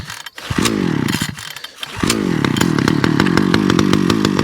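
A Titan chainsaw engine runs rough on choke just after a cold start, stuttering briefly before catching and then settling into a loud, close, buzzing idle that climbs slightly in pitch.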